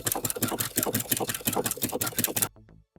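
Sewing machine running a narrow zigzag stitch around the edge of a fabric heart for panties, a close rapid mechanical chatter that stops abruptly near the end, leaving a brief faint tail.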